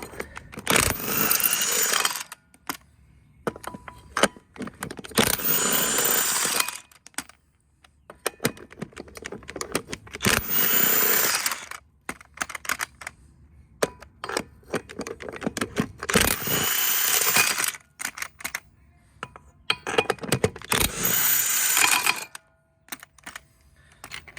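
An impact wrench removes lug nuts from a Ventrac 4500 wheel out in the field, firing loud rattling bursts of a few seconds each, separated by quiet gaps.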